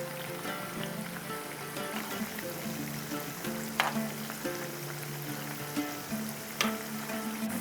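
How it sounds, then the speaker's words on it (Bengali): Ranga aloo pitha, sweet potato cakes, fry in oil over a medium flame with a steady soft sizzle and bubbling, dotted by a few sharper crackles and pops. "পিঠেগুলো ভাজার সময় ফ্লেমটা কিন্তু সব সময় থাকবে মিডিয়াম ফ্লেমে"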